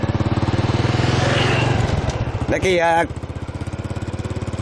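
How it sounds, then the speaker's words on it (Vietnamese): A motorcycle engine idles with a steady close putter, someone speaks briefly over it, then the engine revs sharply and settles back into a running rhythm as the rider moves off on a road near Sy Nam market in Dien Chau. "bây giờ tôi nổ máy và đi tiếp mọi người và các bạn nhé."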